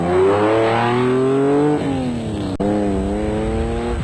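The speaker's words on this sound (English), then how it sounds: "Veterans Grobler and Leek set a blistering pace right from the start in the proudly South African Nissan Hardbody" A South African Nissan Hardbody off-road race truck accelerates hard, its loud close engine climbing through revs with a gear change partway, then pulling again, alone without talk.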